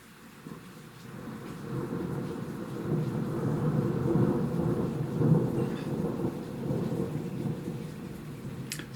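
Thunder rolling during a hail and thunderstorm over Cambridge, UK, a long deep rumble that swells and fades over steady rain and hail noise, fairly loud and close.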